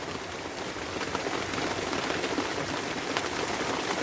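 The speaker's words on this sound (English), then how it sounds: "It's raining pretty good" Heavy rain pours steadily during a lightning storm, a dense, even hiss of drops striking surfaces outdoors with no voices.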